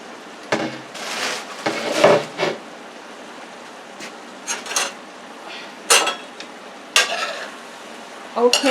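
Peppers and onions fry in a pan for a skirt steak dish, giving a continuous sizzle punctuated by sharp, loud scrapes and clanks of a utensil against the pan in irregular bursts.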